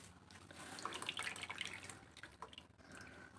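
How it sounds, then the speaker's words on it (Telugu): Rice water trickling and dripping through a strainer into a pot while making bendakaya (okra) charu, a soft, steady pour with scattered drips, close and fairly quiet with no voices. "ఇప్పుడు దీంట్లోకి కొంచెం రైస్ వాటర్ అయితే పోసుకుందాం."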